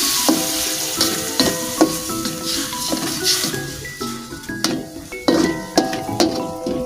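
A spoon scrapes and clinks against a pan while a meat filling for pastel basah, with a little water just added, sizzles and simmers. The stirring runs in a steady, repeated rhythm, close and fairly loud throughout.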